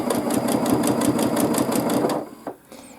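A sewing machine stitches a free motion quilting line in rapid, even pulses for about two seconds, close and fairly loud, then stops abruptly, leaving a faint click and quiet room tone.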